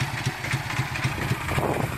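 A 1965 Honda CA77 Dream 305 motorcycle engine idling low and steady, with a regular chugging pulse about four times a second, close and continuous, no voices.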